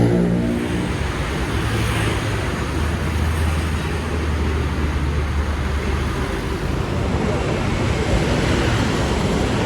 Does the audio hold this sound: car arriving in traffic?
yes